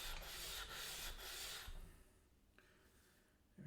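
Sharpening stone rubbed back and forth on a flattening surface to grind out dents, a few rhythmic gritty scrapes up close that fade into quieter rubbing.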